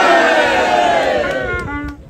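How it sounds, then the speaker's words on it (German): A crowd cheers and shouts at an outdoor closing rally on a town's old market square during a harbour festival, loud and sustained, with a voice rising over the cheering near the end. "Jubel!"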